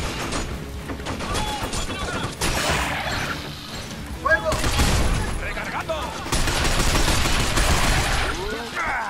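Bursts of gunfire and clattering mechanisms go off in the video game Binary Domain, sounding loud and close in repeated volleys. Voices speak intermittently over the shooting.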